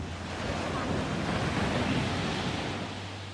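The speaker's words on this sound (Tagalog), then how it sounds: "Malalaki yung alon?" Steady roar of big ocean surf at Nacpan Beach, El Nido, Palawan, with wind buffeting the microphone, a broad continuous wash of water noise swelling slightly in the middle.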